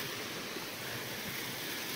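A mountain stream flows beside a hiking trail in Iezer-Păpușa in autumn, making an even, broadband rushing murmur that holds steady and moderately quiet without voices.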